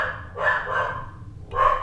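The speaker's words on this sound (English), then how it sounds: "excuse my dog's barking" A dog barks in a few bursts, two close together and another after a short pause, fairly near and moderately loud in a room where someone ties a rubber-leg fishing fly at a bench.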